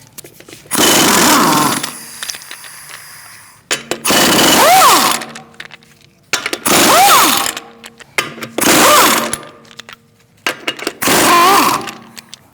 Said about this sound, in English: We're going to use a 19mm socket to remove the lug nuts, to remove the wheel.